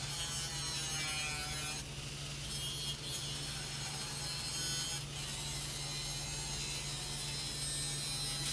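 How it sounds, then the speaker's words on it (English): Angle grinder cutting a traced paring-knife blade pattern from flattened steel, a steady, continuous grinding whine held close and loud throughout with slight shifts in pressure. "cut that pattern out with the angle grinder"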